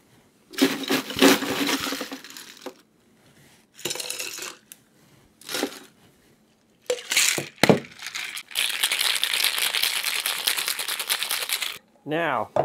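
Ice rattling and clattering into a cocktail shaker holding a grenadine drink, loud crunchy bursts in separate bouts, then a long sustained stretch of rattling.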